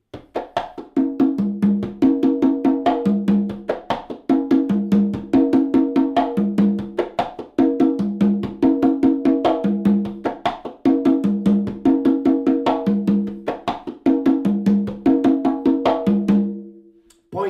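Conga drums play a steady, repeating syncopated songo pattern of open tones and sharp slaps, loud and close, ending with a ringing final stroke.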